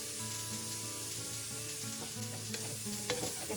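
Onions sweat down in a pan with Cajun seasoning, giving a steady, close sizzle with scraping stir sounds layered on top and no talking.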